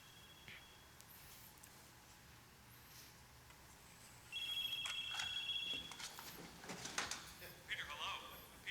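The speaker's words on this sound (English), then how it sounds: "And his phone rings again." Telephone ringing in a played film scene, a steady electronic trill sounding for about a second and a half, moderately loud, with sliding and clattering noises and voices around it.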